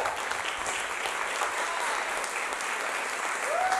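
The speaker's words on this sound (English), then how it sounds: "Would somebody clap your hands like you catch what I'm saying?" A church congregation clapping their hands in loud, sustained applause, a dense, even patter lasting the whole stretch with a brief whistle near the end.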